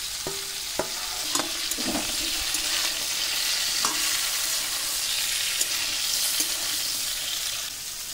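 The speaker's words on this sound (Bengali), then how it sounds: "এখানে সব রকম সবজি ভাজা দিয়ে দিচ্ছি" Mixed fried vegetables, including pumpkin, sizzle steadily in a pan while a spatula stirs and scrapes, giving a continuous close frying hiss punctuated by light clinks and knocks.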